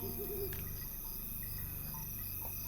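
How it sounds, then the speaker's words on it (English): A pet bird in the online game Lord of the Rings Online gives soft hooting calls, steady and close, over a constant low hum of game ambience. "What do you think of the bird?"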